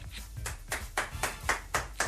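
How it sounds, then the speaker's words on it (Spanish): Slow, even hand claps from one person, about four per second, close and fairly soft, with nothing else heard. "Hay que aplaudirlo."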